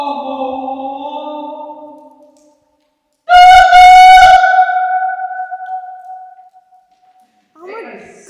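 A loud, sustained steam-whistle blast with a harmonic tone rings out after a pause, trailing off slowly; talking is heard before and after it.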